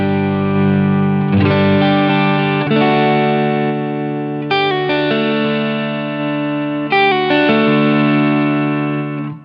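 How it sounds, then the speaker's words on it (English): Sustained electric guitar chords through a Line 6 HX Stomp XL chorus effect ring out with a shimmering, wavering, Leslie-like sound, a new chord struck every couple of seconds, loud and full. "I would use the chorus for like a fake Leslie kind of vibe"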